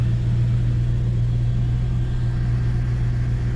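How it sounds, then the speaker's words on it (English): A 2004 Toyota Tundra 4x4 engine idles steadily with a close, low rumble, while the driver tries to shift the four-wheel drive into 4 high. "Okay, I'm going to run the motor into 4 high."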